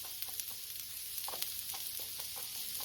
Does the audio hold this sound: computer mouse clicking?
no